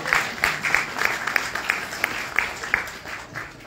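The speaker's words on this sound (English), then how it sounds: "let's give a round of applause for the men who are here" Audience applause at a conference keynote, steady moderate clapping with a few distinct louder claps standing out in a regular pattern, the crowd sound holding evenly and easing slightly toward the end.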